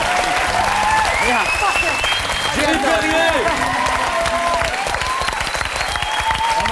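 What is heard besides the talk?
audience applause for Victoria Abril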